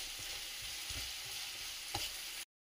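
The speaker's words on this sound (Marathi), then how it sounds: "पाच ते 10 मिनिटं हा कांदा छान परतून घ्यायचा आहे." Finely chopped onion fries in a pan for pav bhaji, a steady close sizzle with a few soft stirring scrapes, ending abruptly in silence.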